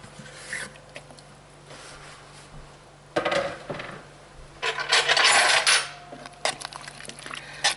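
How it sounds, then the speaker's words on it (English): Chopped vegetables drop and clatter into a crock pot for beef vegetable soup, heard as bursts of scraping, rattling and tumbling pieces close by, with quieter gaps between them. "Now I'm going to add my vegetables in there."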